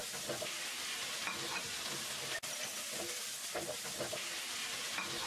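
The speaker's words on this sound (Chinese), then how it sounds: "放豆腐，輕輕翻炒3分鐘" Mapo tofu with minced pork, bean paste and tofu stir-fried in a wok, a steady loud sizzle with scraping stirs of the spatula and one sharp knock, no talk.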